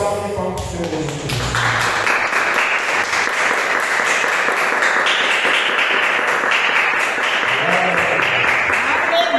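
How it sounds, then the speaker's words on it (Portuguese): A church congregation claps steadily together in praise during a prayer service, a continuous even wash of applause with brief voices at the start and end. "salve de palmas para o Senhor Jesus"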